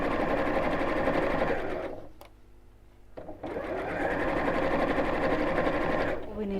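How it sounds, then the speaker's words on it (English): A sewing machine runs stitching a seam close to the fold of fabric on a child's backpack: a steady, loud mechanical whir that pauses briefly midway, then resumes and continues. "I'm sewing quite close to the fold of the fabric."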